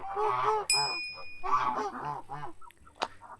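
Several harsh, honking calls from a Kholmogory gander in quick succession, moderately close, with a sharp high ding briefly ringing out partway through.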